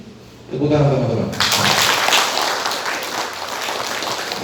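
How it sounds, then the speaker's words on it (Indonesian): An audience bursts into sustained applause at a business learning session, a broad, even wash of clapping that follows a brief speaking voice and holds steady to the end. "Tepuk tangan teman-teman"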